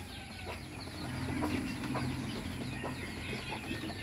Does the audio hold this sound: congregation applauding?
no